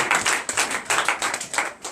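A church congregation clapping during a Sunday service, loud, close, rhythmic bursts of hand claps in quick succession without talk.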